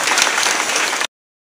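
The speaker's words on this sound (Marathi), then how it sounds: "त्यांच्यासाठी एकदा टाळी वाजवा महाराज" A crowd claps together at a devotional kirtan gathering, a dense, loud burst of applause for about a second that stops abruptly into silence.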